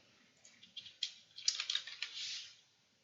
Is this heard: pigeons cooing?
no